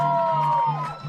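A crowd at a girls' soccer game cheers and whoops for the home team, a short, loud burst of excited voices.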